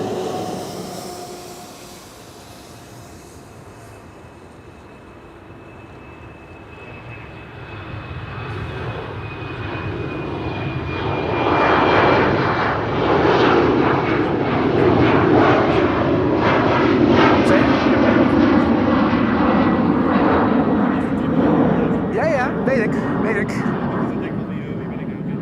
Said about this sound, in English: Sky Express, flight 790, arriving from Athens. That's an A320neo.